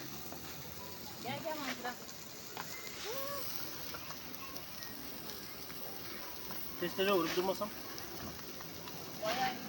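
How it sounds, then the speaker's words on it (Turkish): A strong charcoal fire burns for grilling, giving a steady, close crackling hiss throughout while people talk over it in Turkish. "Ateş güçlü."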